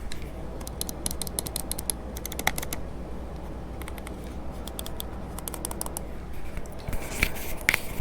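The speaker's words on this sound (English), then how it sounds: "the left click and right click uses the ASUS ROG optical switches. So we're gonna hear it for the first time" Rapid, sharp plastic clicks from the optical switch buttons of an ASUS ROG Keris II Ace mouse, repeated in quick irregular bursts, close and crisp over faint background noise.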